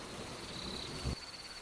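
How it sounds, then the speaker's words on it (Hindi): Heavy rain pours steadily in a dense, even hiss during a dark stormy night, with a brief low thump near the end and no voices. "बरसात अब बूंदों से तेज धार में बदल चुकी है।"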